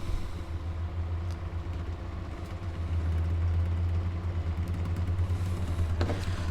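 A homemade pulse motor generator runs in self-oscillation at roughly 1200 to 1300 RPM, giving a steady low mechanical hum with faint rattling that swells slightly partway through.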